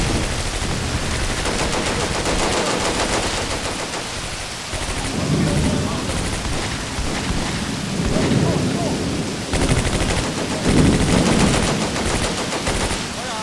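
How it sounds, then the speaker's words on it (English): Mortar and artillery fire in the Combat Mission Beyond Overlord wartime game: a steady roar of battle noise with repeated dull booming thuds rolling in every few seconds, while a voice talks over it. "Yep, he's definitely firing that mortar."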